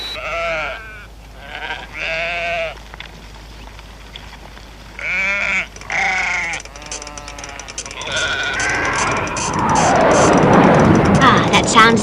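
A sheep counting meter in Thunderbirds bleats over and over in loud, close, sheep-like tones, several spaced bursts broken by short gaps, and then a roaring rumble builds and takes over near the end.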